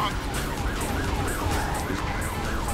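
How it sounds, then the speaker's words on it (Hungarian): Police car siren wailing in a video game, a steady rising-and-falling whoop that repeats over continuous engine and road noise, loud and close throughout. "Menjen már innen ez a rendőrautó, vagy nem tudom mi is."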